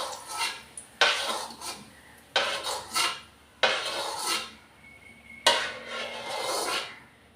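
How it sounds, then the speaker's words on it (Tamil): Semolina being roasted in ghee in a pan, a close run of repeated scraping strokes of a spatula, each burst lasting about a second with short pauses between. "ரவையை வறுத்துக்கிறேன்."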